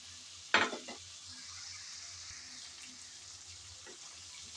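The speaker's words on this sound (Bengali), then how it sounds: "চিংড়িগুলো দিয়ে ভালোভাবে কষিয়ে নিতে হবে।" Shrimp that was fried earlier goes into a pan of spicy masala for a slow stir-fry, landing with a short, sharp burst of sizzle. A low, steady background hiss from the pan follows, and no one speaks.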